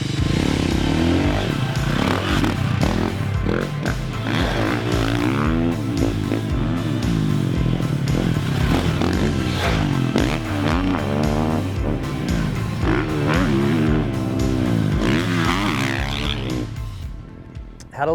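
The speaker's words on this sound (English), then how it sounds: "a 2018 KTM 450 SX that has been basically converted into an off-road bike" A 2018 KTM 450 SX dirt bike converted for off-road riding runs steadily for the whole stretch, its engine note rising and falling with throttle as it is ridden, loud and close, easing off at the very end.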